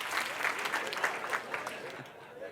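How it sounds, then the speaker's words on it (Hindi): Audience at a motivational talk claps on cue, a sustained patter of many hands at moderate distance, fairly steady for a couple of seconds with no voices. "मैं जब भी बोलूंगा आप एक बार ताली बजाएंगे"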